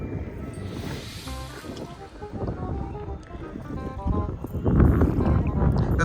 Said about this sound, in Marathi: ही अशी होडी चालवतो आम्ही